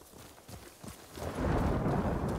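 A thunderstorm in the video game Ghost of Tsushima: soft hoofbeat-like thuds early on give way to a swelling, loud roll of thunder with rain.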